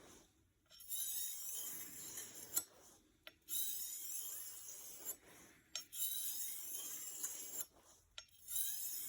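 A cheap knife blade is sharpened by hand on an oiled Arkansas stone, giving steady gritty rasping strokes broken by brief pauses, close and fairly quiet with no talking.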